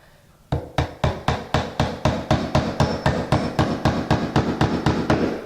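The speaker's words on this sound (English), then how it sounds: "I'm going to finish nailing this" A hammer drives nails into hardwood floor boards in a steady run of about twenty sharp, loud blows, evenly spaced about a quarter second apart. The strikes are close and there is no talk.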